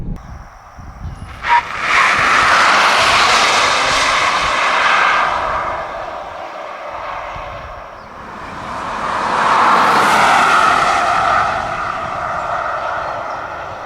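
A Tesla Cybertruck Cyberbeast electric pickup launches and accelerates hard, giving a loud, rising whine with rushing road and wind noise in two long surges, the second following a brief easing. Nobody speaks.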